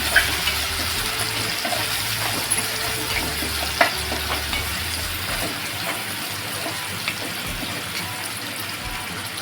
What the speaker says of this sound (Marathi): तर इथे आपल्याला कांदा शिजलेला आहे त्यामुळे थोडं टॉमॅटो सुद्धा आपलं चांगलं परतून घ्यायचं